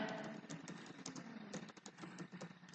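Rapid, light keystrokes on a computer keyboard type out a word in a quiet room, irregular clicks close by and fairly soft.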